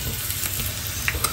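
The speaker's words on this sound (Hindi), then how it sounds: "तड़का रेडी" Oil sizzles in a pan for a tadka while momo sauce is made, a short, soft, steady crackle of frying.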